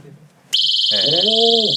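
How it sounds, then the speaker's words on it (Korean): A portable SOS emergency alarm shrieks on with a sudden, piercing, continuous high-pitched tone that stays loud throughout, while people talk underneath it. "휴대용 SOS 비상벨이고요"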